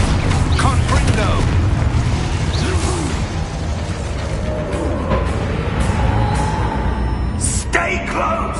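Confringo explosive spell blasts in Hogwarts Legacy: repeated bursts and booms in a chaotic combat mix, loud and close, with shouted voices and clattering effects throughout.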